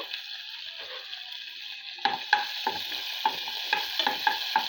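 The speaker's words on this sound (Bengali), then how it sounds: "এখন আমি এই কিশমিশ আর বাদামগুলোকে ভেজে নিব হালকা ব্রাউন কালার করে ভেজে নিব" Raisins and nuts frying in a pan, a faint sizzle at first, then a ladle scraping and stirring in repeated quick strokes, close and moderately loud, with no talking.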